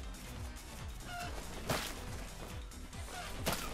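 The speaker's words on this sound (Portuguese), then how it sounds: "Vamos! La pelea de galo!" A rooster cockfight in the video game Far Cry 6 plays out as a busy mix of game sounds, with quick whooshing hits, sharp smacks and brief fowl-like squawks over a low rumbling backdrop.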